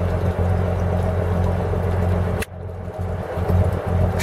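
The engine of a Dutch steel cruiser, an Aquacraft 1250 AK, runs at a steady idle with a low continuous drone, loud and close, briefly dipping for a moment before resuming.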